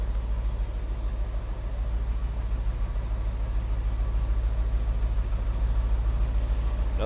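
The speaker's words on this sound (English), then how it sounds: "Nothing crazy as far as the exhaust goes" A 1964 Ford Thunderbird hardtop idles with a steady, deep exhaust rumble, even and continuous with no revving.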